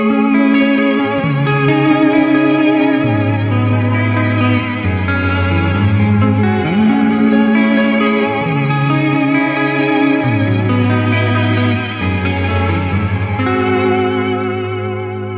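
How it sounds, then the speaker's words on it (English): Electric guitar through an EarthQuaker Devices Astral Destiny pedal in Shimmer reverb mode, sustained chords ringing into a lush, washy tail with an added upper octave shimmer, loud and continuous with no talk. "this will add an upper octave to the reverb tail"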